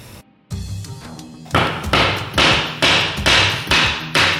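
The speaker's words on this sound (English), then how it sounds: "A couple of taps over." Laminate floor planks knocked together with a hammer against a sacrificial tongue-and-groove scrap, a soft shuffle then six evenly spaced solid thuds, close and loud.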